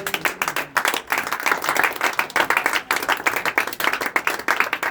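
A church congregation clapping and applauding together, a loud, continuous burst of many hands in quick uneven rhythm, close and filling the room.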